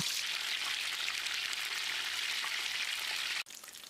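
Mushrooms deep-fry in hot oil for a restaurant-style pepper fry, a dense, even crackling sizzle like rain that continues throughout with one brief dip near the end.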